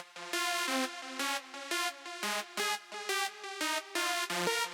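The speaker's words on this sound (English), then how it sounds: "Something like a super saw works perfect for this." A layered supersaw synth lead, a sawtooth wave stacked with detuned unison voices, plays a bright, buzzy chord riff of short rhythmic stabs and held notes, loud and alone.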